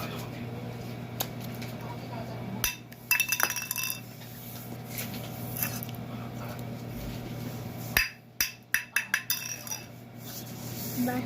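A drinking glass clinks and rattles in two short clusters of bright, sharp hits against a steady hum. The second cluster is a quick run of several knocks.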